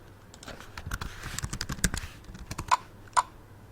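Typing on a computer keyboard while entering login details: a quick, irregular run of close, crisp key clicks lasting a few seconds, with a couple of sharper strokes near the end.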